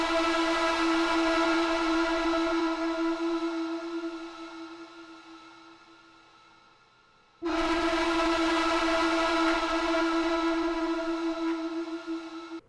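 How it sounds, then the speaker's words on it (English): Layered Omnisphere synth patches run through distortion form a dark villain-style sound: a loud, sustained droning tone that swells, fades toward silence, then cuts back in abruptly, heard alone. "basically what I'm doing is I'm using a couple of omnisphere patches and just layering those and then, kind of, using some distortion"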